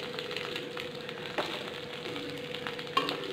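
Mustard seeds, curry leaves, green chillies and asafoetida frying in a pan, a faint steady sizzle with soft stirring and a couple of sharp crackles, close by with no talking.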